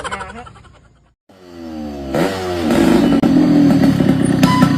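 A motorcycle engine sputters and then catches, rising into a loud, steady running drone that fills most of the stretch with some mechanical clatter.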